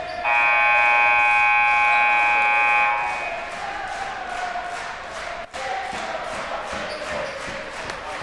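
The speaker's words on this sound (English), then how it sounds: "And the chants ring out from the Saints crowd" A loud buzzer blares for about three seconds over a large crowd in a gym at a boys' varsity high school basketball tournament semifinal. Afterward the Saints fans keep up a sustained, rhythmic roar of chanting.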